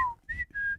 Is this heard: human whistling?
yes